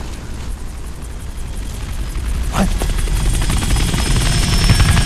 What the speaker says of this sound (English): Now here's a helicopter.